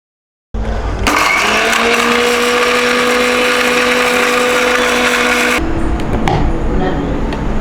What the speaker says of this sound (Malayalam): നമുക്കിനി മുളക് ആദ്യം പൊടിച്ചെടുക്കാവേ